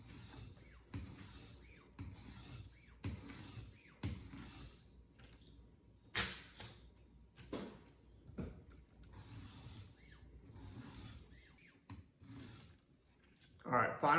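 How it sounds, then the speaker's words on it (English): A knife is pushed in forward passes across a 1000 grit whetstone, giving a repeated series of short, close gritty scrapes separated by brief pauses, fairly quiet overall. "I'm just going to do forward passes on the 1000 grit stone."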